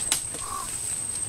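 A single crow-like caw rings out briefly over a steady high whine and faint ambient noise in a mangrove forest.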